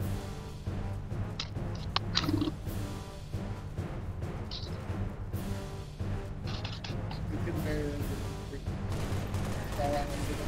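Continuous gunfire and explosions fill a Halo Reach firefight on Legendary difficulty, a dense, steady barrage of shots and booms running throughout with little letup.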